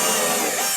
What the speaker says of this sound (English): I have a drill bit. I'm going to drill a hole